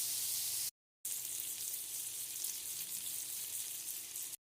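Beyond Meat burger patties frying in a pan, a steady close hiss of sizzling fat that drops out briefly and then resumes, with no voices.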